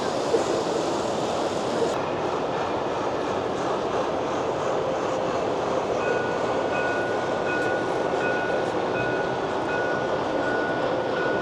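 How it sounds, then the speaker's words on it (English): A model passenger train running on a large 10-scale layout at a model train fair, producing a steady rolling rumble with a faint high whine, continuous and close throughout. "There's a passenger train."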